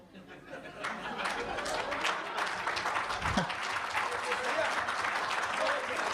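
An audience breaks into sustained clapping that swells and holds, with some laughter and chatter mixed into the crowd noise.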